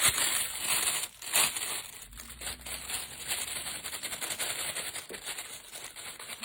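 Craft foil coated with transfer gel and adhesive being crumpled by hand, producing dense crackling and crinkling bursts, close and fairly loud, with uneven rapid pops throughout.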